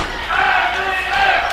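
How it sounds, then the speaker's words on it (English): A wrestling crowd in Cornelia, Georgia cheers and shouts loudly for Azrael during a War Games match, a dense, continuous roar with a commentator talking over it. "The crowd here in Cornelia, Georgia getting behind Azrael"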